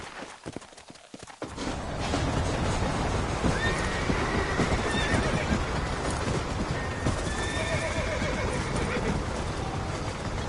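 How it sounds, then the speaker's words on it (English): A horse whinnies loudly and briefly in Red Dead Redemption, followed by steady clip-clopping hooves and cart rumble through the rest of the scene, with a few faint whinnies over the trotting. "You ain't gonna find sturdier horses than these in all of New Ulster."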